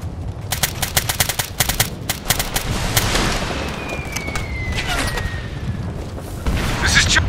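Rapid bursts of automatic gunfire crackle through a firefight in Operation Flashpoint: Red River, clustered volleys in the first half giving way to steadier distant shooting, with shouted voices mixed in.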